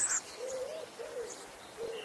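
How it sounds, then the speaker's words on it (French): Gentle birdsong ambience in a mobile cycling video game, a few soft, tonal calls repeating at an even, unhurried pace over a quiet background. "écoutez ces jolis chants d'oiseaux qui viennent chatouiller vos tympans d'une remarquable douceur"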